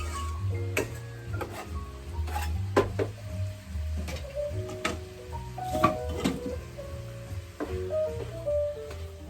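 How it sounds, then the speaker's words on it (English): Ground meat cooking in a pan for a small lasagna as onions are added, with irregular close clinks, taps and scraping of a utensil against the pan over a low background rumble, no voices. "now I'm going to add the onions"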